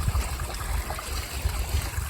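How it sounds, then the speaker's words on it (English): Waterfall spilling into the lower part of a gunite garden pond planted with water hyacinth and water lettuce, a steady close trickling rush of water running alone and unbroken. "then you have the waterfall flowing down into the lower part of the pond"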